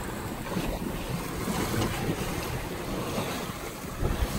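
A sailboat runs under full sail at about 6.5 knots on open ocean, with steady rushing waves and wash along the hull and heavy wind buffeting the microphone throughout.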